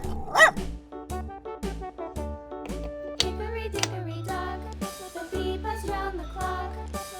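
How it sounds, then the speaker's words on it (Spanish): A dog barks in a few short, sharp bursts, loudest at the start, over bouncy children's music with a steady beat and plinking melody. "¿Sabes cómo hace el perrito?"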